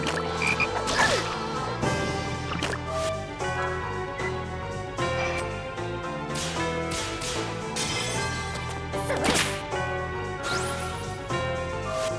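Frog enemies croak continuously in the Shadow Hearts battle, layered deep ribbits over busy game music and effects, with no talking.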